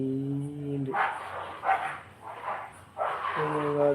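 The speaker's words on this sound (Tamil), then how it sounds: "நாய் 2 மல்லு கட்டும் போலங்க, 2-3 மல்லு கட்டுது" Dogs bark and snarl in rough bursts, sounding like a scuffle, with a tonal hum or engine drone at the start and end.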